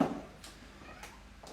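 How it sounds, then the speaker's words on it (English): A domestic cat gives a few faint, short meows at intervals in a quiet room, with a brief louder sound at the very start. "Cat's here, give the cat a little shout out."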